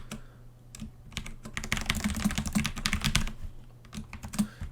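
Fingers type PHP code on a computer keyboard, a close burst of quick, irregular key clicks that thickens in the middle and thins toward the end, with no talking.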